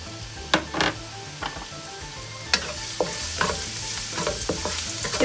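Chopped garlic, about a tablespoon from four or five large cloves, fries in oil in a pan, giving a steady sizzle broken by sharp scraping stirs and utensil clacks.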